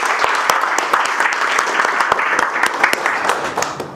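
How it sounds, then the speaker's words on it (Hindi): A classroom audience at a counselling session claps loudly and steadily, sustained dense applause with sharp individual claps standing out near the microphone throughout. "एक बार अपनी फैमिली के लिए जोरदार ताली बजाओ"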